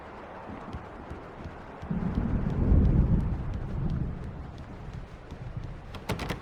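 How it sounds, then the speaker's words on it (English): A low thunder roll from an approaching storm in the video game Alan Wake Remastered swells in the middle and then fades, with faint patter and a few sharp clicks near the end, no voices. "The storm is almost here."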